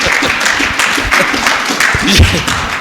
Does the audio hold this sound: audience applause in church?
yes